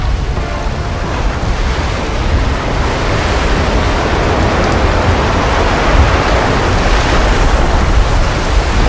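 Wind and sea waves rushing past a sailing ship in the pirate game Ravens Cry, a loud, unbroken roar of surf and wind with no talking.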